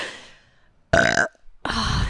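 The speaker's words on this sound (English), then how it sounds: "It's not a time on the pod if I don't burp into the mic at least once." Two loud, close burps are let out into a podcast microphone, separated by a short pause, the first deep and rattling, the second rougher and longer, with no talking in between.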